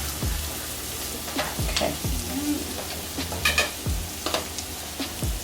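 Food fries in a little bacon fat for tacos de birria, a soft sizzle broken by repeated stirring scrapes and clinks, close and fairly quiet, with one brief spoken word.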